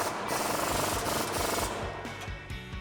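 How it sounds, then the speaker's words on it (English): Steady, dense mechanical grinding and rattling from a power tool tightening a nut with a 15mm socket, the bolt held by an 18mm wrench, during a Ford F-150 Eibach coil-over install; loud and close, continuous with slight pulsing throughout. "take a 15mm socket and 18mm wrench to tighten it down"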